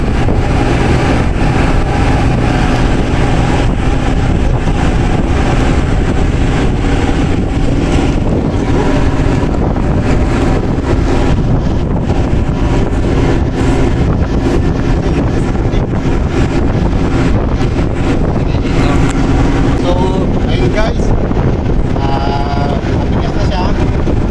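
A rescue boat engine runs during an equipment test, a loud, steady, unbroken roar with wind buffeting throughout and no break in level.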